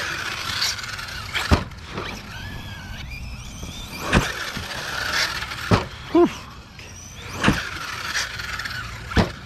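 An Arrma Kraton EXB 6S RC car builds speed outdoors toward a ramp, its electric motor whining and rising in pitch over several passes, with brief sharp squeals and clatters.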